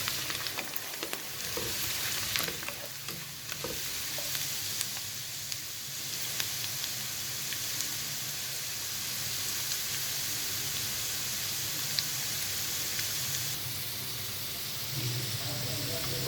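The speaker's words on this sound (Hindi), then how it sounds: "प्याज ये देखें आप, फ्राई हो रहा है।" Onions frying in a pan, a continuous close hissing sizzle with crackle and occasional stirring clatter over the whole span, with a faint voice briefly underneath.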